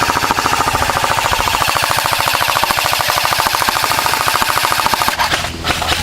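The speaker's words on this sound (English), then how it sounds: "Is there a saw gunner pinning you guys down?" Rapid sustained burst of automatic fire from an airsoft SAW light machine gun during an outdoor war game, a steady loud rattle running almost the whole time before cutting off near the end.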